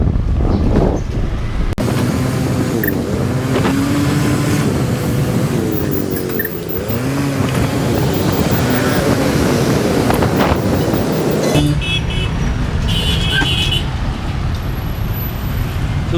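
Scooter ride through Vietnamese city traffic, with a steady engine drone and broadband road and wind rush throughout, plus passing vehicles, a few horn-like tonal bursts and brief shifts in pitch as the scooter moves through traffic.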